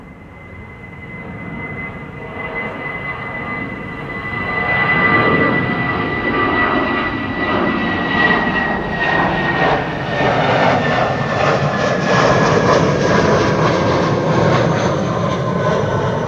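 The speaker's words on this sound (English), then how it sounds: "The KLM in the foreground that you saw was KLM flight 1167" KLM airliner at Schiphol Airport, jet engines whining and swelling from moderate to loud over several seconds, with rising tonal whines and a sustained roar, no speech.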